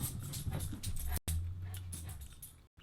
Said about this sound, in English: Dog will not leave me alone.